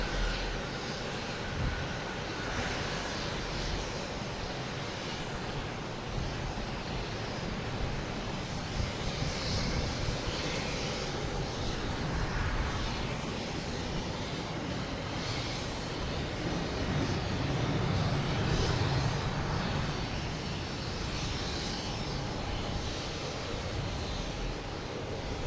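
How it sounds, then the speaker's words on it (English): An Alaska Airlines airliner rolls along the runway at Boston Logan Airport, its jet engines giving a steady, distant roar that holds throughout without talk. "And Alaska Airlines should be coming down the runway."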